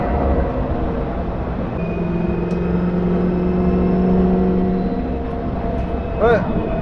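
Ex-New Zealand Army Land Rover Stage One V8 engine droning steadily while driving at speed, a continuous loud rumble with shifting tones, road and cabin noise throughout.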